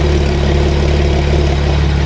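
A GT3 engine running with the exhaust valves open: about two seconds of loud, even, deep droning with a steady pulsing low end and no talk over it.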